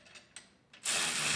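A hand ratchet tightens a bolt on a 2019 GMC Sierra Denali truck: a few soft quick clicks, then a sudden louder burst of rapid ratcheting close by.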